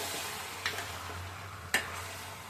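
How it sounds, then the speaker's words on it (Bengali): Cabbage greens are being stirred into potatoes in a pan, with two distinct scraping clinks of a spatula over a low, steady background hum and faint hiss, no voices. "এবার কপির শাকটাকে আমি একটু মিশিয়ে দিই আলুর সাথে আর কি।"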